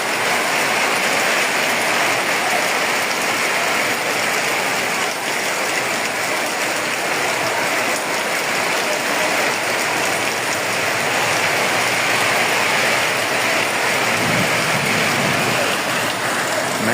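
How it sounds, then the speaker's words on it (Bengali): Heavy rain pours steadily during a wind storm, a loud, unbroken roar of drops on surfaces with no distinct thunderclaps standing out. "মেঘের গর্জন অনেক জোরে হইতেছে"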